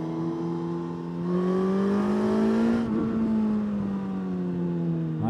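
A Suzuki GSX-S1000 GT motorcycle engine revs up, its tone climbing to a peak midway and then easing back into a steady hum, heard at moderate distance and fairly quiet overall.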